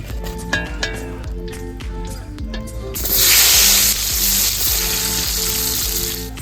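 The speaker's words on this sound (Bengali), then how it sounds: "সেকেন্ড স্লটের পটল ভাজা হয়ে গেছে, তুলে নিচ্ছি এবার।" Sliced pointed gourd fries in oil in a home kitchen; utensil clinks and music come first, then a loud, close hiss of frying bursts in and continues steadily under faint background music.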